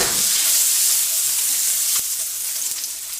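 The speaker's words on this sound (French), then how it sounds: "dans une poêle chaude, on va mettre environ 25 grammes à 30 grammes de beurre" Butter sizzles loudly in a hot frying pan, a dense continuous hiss that eases slightly toward the end, with no voices.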